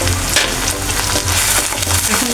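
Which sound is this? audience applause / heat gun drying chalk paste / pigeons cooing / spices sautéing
spices sautéing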